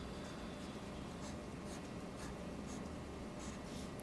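Pen or marker scratches steadily on a surface while drawing a chemical structure's double bond during an organic chemistry lesson, a faint continuous writing sound with small rhythmic strokes and no talking.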